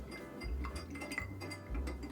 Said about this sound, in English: Stir a little, add a nice big ice ball, and stir a little more to chill and dilute.